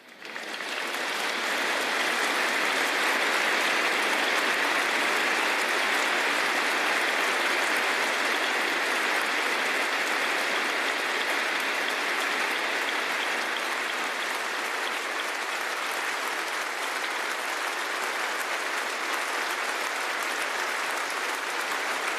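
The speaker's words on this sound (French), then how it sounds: "Les applaudissements qui résonnent dans cette cour d'honneur des Invalides" Long, steady applause from a large crowd echoes in the courtyard of honor at Les Invalides during a national tribute to Simone Veil, a dense, even wash of clapping that swells in quickly and holds.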